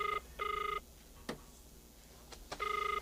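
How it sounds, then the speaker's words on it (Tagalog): A cellphone rings in a quiet room with repeated bursts of bright electronic tone, two near the start and one at the end, broken by a few soft clicks and thumps in between. "Agringan ti cellphone na."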